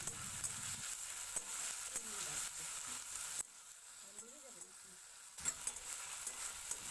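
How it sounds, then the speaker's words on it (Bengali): Chopped tomato and ginger stirred in a pan over very low heat, a soft sizzle with intermittent scraping strokes that briefly drop away before resuming, quiet and close. "টমেটো দেওয়ার পরে 2-3 মিনিট একটু নাড়াচাড়া করে নিয়েছি"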